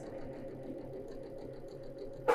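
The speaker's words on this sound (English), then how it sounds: "And we're going to go ahead and sew this." A sewing machine stitches quilt two-patch units together in a steady, even mechanical whir of rapid stitching, close and continuous, ending with a brief louder clunk.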